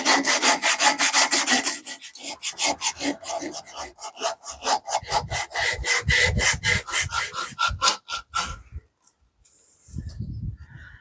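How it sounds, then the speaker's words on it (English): Sandpaper rasps rhythmically over an African mahogany handle for a dovetail saw kit, with quick, close, evenly spaced back-and-forth strokes that slow and pause near the end before one more brief burst. "All right, a little sandpaper applied."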